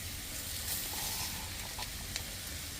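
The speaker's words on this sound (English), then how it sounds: "So now I've got these onions sizzling." Onions sizzle in a pan on medium heat, a steady, even hiss that fills the whole stretch, with a few faint crackles and no talking.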